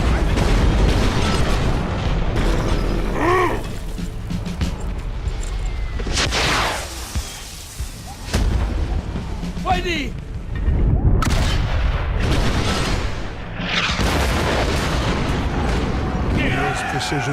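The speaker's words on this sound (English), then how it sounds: "Precision cannon firing" Repeated cannon artillery booms from the World War I video game Valiant Hearts, loud and dense with blasts recurring every few seconds over a continuous rumbling battle backdrop.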